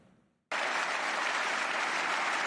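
Applause fills the European Parliament chamber as Maltese conservative Roberta Metsola is re-elected president, a dense, steady wash of many hands starting abruptly after a brief quiet moment and holding loud throughout.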